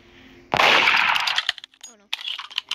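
A loud gunshot fires in the Roblox game Murder Mystery 2, a sharp broadband burst with a decaying tail, followed by clanking and a few short game sounds; a voice talks briefly near the end.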